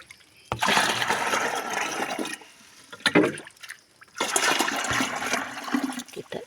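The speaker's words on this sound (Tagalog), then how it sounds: "Diligan ko na naman ang ampalaya ko." Bitter gourd plants being watered: bursts of splashing, pouring water come in three stretches with short quiet gaps between them, close and fairly loud with no voices.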